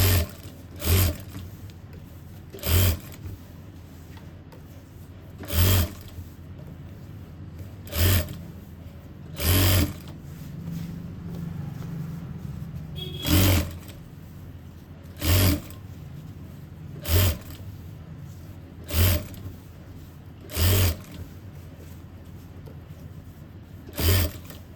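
Sewing machine basting a simple suit, running at speed number 5: a steady mechanical whir broken by about a dozen short, loud bursts at regular intervals, close and clear with no talking.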